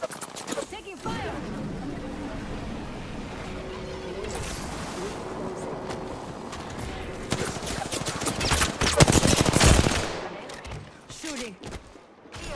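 Gunfire in the shooter game Apex Legends, with rattling bursts and scattered shots over a steady background of in-game sound that builds into a dense, loud volley before fading, while character voices call out over the action.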